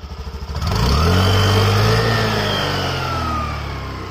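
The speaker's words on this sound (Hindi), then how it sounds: "तो गाइस आपने एग्जॉस्ट नोट सुना अभी" A 2020 Honda Activa 125 BS6 scooter engine idles with a pulsing putter, then revs up sharply into a steady loud drone before easing off slightly near the end.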